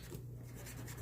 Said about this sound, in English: I'm just going to erase that